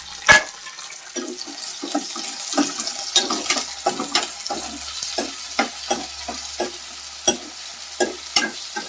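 Green chillies, coriander seeds and cumin frying in a pan, with a steady close sizzle broken by repeated short scraping stirs and light clatters of a spoon.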